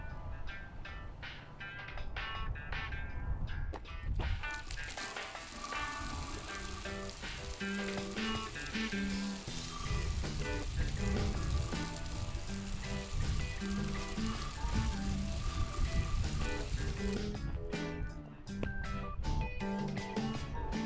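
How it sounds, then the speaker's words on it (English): Raindrops patter and hiss steadily on a camera outdoors beside a garage during wheel cleaning, a dense, close crackling wash of sound with no talking. "Camera's starting to get rained on."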